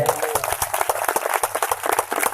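A church congregation claps hands together in a quick, steady rhythm, the sharp claps close and prominent.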